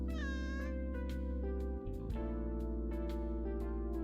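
Cat meowing in the video game Arknights, a string of clear, repeated meows standing out over steady game music and background tones.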